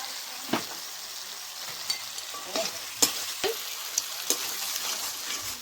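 Tomato paste and turmeric frying in a pan, a gentle continuous sizzle punctuated by several sharp spatula taps and scrapes at irregular intervals, close and quiet, without talk.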